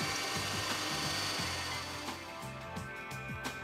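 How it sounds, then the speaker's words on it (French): A power drill with a correctly sized bit boring holes for mounting a Yamaha marine remote control box, a steady whirring motor with repeated strained bites as the bit cuts, heard close under a continuous background hum. "percez les trous."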